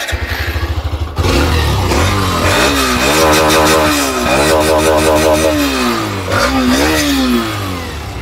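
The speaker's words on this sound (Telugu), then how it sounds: "సో ఇప్పుడైతే ఇంజన్ నోట్ అయితే చెక్ చేద్దాం" A Hero Xtreme 125R motorcycle idles briefly, then its engine is revved hard in repeated rising and falling bursts, loud and close, with no talking.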